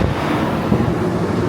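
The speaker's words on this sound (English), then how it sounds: "Let me turn some fans on" Cooling fans blow steadily over a Porsche 911 GT3 engine, making a loud, close, even whooshing roar with no breaks and no talking.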